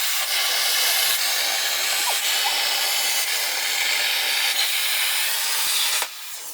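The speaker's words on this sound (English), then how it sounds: "The plasma cutter just pooped out here on this cut." A plasma cutter hisses steadily as it cuts through metal on a welding cart build, a loud continuous roar that cuts out abruptly near the end.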